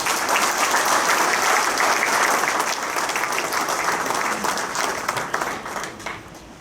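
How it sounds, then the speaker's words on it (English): At a county sports hall of fame induction ceremony in a memorial hall, a crowd gives dense, sustained applause that thins and fades over the last couple of seconds. "If you would hold your applause"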